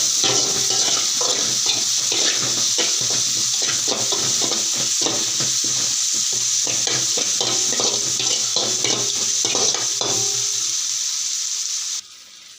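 Onion and tomato sauté in a hot pan for khichdi, a loud, steady sizzle with rapid, repeated spatula scrapes and taps that stop abruptly near the end, leaving faint hiss.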